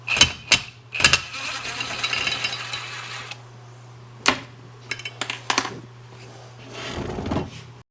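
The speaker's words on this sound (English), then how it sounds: "we're gonna pull off these bolts that are holding the arms to the clutch" A hand ratchet clicks in short bursts and longer runs, close and crisp, as bolts holding the arms to a clutch are loosened, with metallic clinks between strokes.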